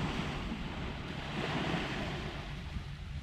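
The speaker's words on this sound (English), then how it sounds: "sea's nice and calm" Calm sea washes gently onto Selsey West Beach between the groynes on a summer evening, giving a continuous soft hiss of surf mixed with wind buffeting the microphone. No talk is heard.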